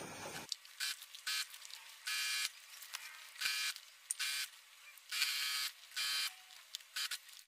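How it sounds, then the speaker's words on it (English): A sewing machine running in repeated bursts while stitching a flat felled seam on a cocoon kimono jacket, its motor whirring close and steady in short on-off runs with no talking. "let the sewing begin"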